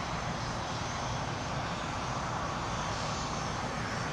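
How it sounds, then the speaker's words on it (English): Bombardier Challenger business jet at LAX, a steady, broad engine roar heard at moderate distance, continuous and unbroken throughout with no talking. "here's a Vista America jet. Bombardier Challenger."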